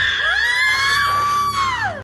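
A ghostly woman's drawn-out scream fills a haunted hotel horror story, a single loud, high wavering wail that rises, holds and then falls away before cutting off abruptly.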